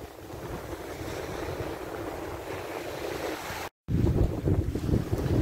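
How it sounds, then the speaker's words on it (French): Strong wind at a beach buffets the microphone with a steady roar, mixed with the wash of waves, continuous and loud, briefly cutting out near the end. "Il y a toujours un peu de vent"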